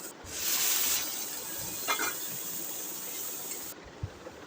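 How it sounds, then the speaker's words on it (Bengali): Chopped onions sizzle in hot oil in a wok, a hiss that swells then settles, with occasional scraping and clinks of a utensil. "এখন কড়াই তেল দিয়ে দিয়েছি পেঁয়াজ দিয়ে দিলাম কুটো করে কেটে"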